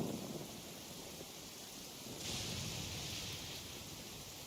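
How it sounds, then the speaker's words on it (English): Heavy rain in Genshin Impact pours as a steady, dense hiss that swells slightly midway, unbroken and without voices. "Quite a downpour. Nothing will get done until it clears."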